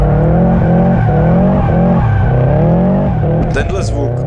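A 2018 Subaru WRX STI is driven hard: loud engine roar rising and falling through the revs with tire squeal at speed, close and continuous, with a voice briefly heard near the end.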